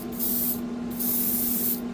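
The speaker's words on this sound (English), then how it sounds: "It sprays just like a lacquer." A spray gun sprays Kaleido primer inside a spray booth, giving a loud, steady hiss in two sustained bursts with a brief pause between, over a constant low booth-fan hum.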